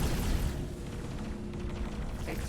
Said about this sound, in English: Explosion. There we go.